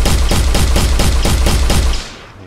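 Rapid automatic gunfire rings out in an Unreal Engine video game test, about ten loud evenly spaced shots that stop abruptly and leave a short fading tail, with no talking.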